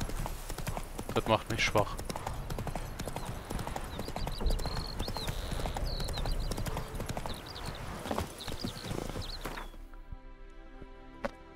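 Hooves of Geralt's horse Roach clip-clopping steadily in The Witcher 3, close and continuous under someone talking in German, with game ambience and a brief whinny, before a menu-like musical tone at the end.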